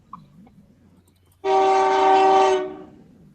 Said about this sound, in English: Listening to the train. Comes the train.